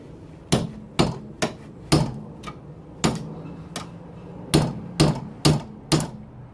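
A hammer taps a metal swivel hub part of a classic Mini in about a dozen sharp, ringing strikes at an uneven pace, close by, with short pauses between blows.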